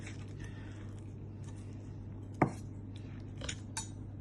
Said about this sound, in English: I'm going to grab a knife, fork to cut it, so you can see